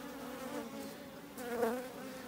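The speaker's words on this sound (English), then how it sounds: "The first box is fairly full of bees now." Honey bees buzzing steadily inside a mini-plus nuc hive, a close, continuous hum that swells slightly near the end, with no talking.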